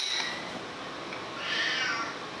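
A cat meows, a drawn-out, somewhat muffled cry rising midway through over a steady hiss of background noise.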